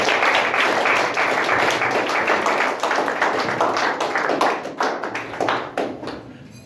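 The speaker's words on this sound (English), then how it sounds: "let's give God a hand clap" A church congregation clapping their hands together in a steady, loud burst of dense applause that thins slightly toward the end, with no voices over it.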